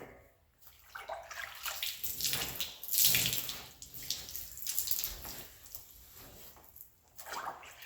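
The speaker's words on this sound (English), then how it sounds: "let's throw some water on here" Water splashed and poured over a metal door that has been treated for rust, a rushing, hissing wash of liquid in uneven surges, loud and close, with no talking.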